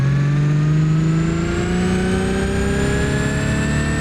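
Truck engine in the BeamNG driving game revving hard and steadily, a loud continuous drone with rising harmonic pitch as it accelerates through the gears, no voices over it.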